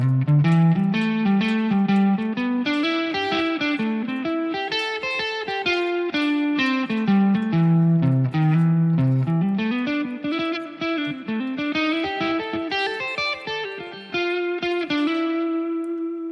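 Electric guitar playing a fast, melodic pentatonic lead line over chords, with a slightly overdriven tone and light effects, continuous and up front.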